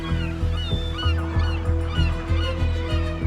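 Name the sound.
gulls calling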